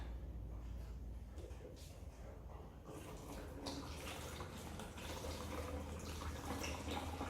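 Fresh-squeezed mandarin juice pours into a jug in a steady liquid trickle that thickens and grows brighter partway through, fairly faint and close.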